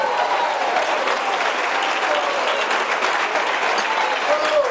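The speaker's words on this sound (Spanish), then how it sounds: "Si le va a dar palmas, se la da fuerte a Jesucristo" A church congregation clapping hard and continuously, a dense, loud wash of applause from many hands filling the room without pause.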